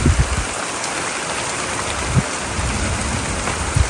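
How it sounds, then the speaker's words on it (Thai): Heavy rain pours steadily onto a garden hut's roof in an orchard during a thunderstorm, a dense continuous hiss with a few louder drops, close and without voices. "ฟ้าก็ร้อง ฝนก็ตกนะ"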